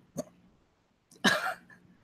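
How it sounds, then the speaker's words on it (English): Two abrupt hiccup bursts from a person, a short one followed by a fuller, noisier one about a second later, close and fairly loud with quiet in between. "Hiccup."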